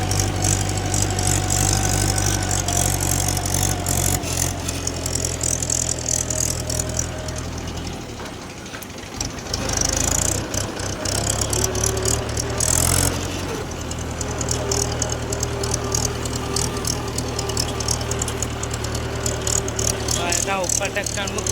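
A tractor loaded with wood idles on a farm with a steady low engine rumble and knock, briefly dipping midway, while people talk nearby.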